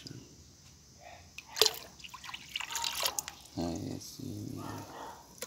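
Water swirling in a whirlpool experiment, soft sloshes and drips with a sharp splash near the start and gurgling bursts later, close and quiet.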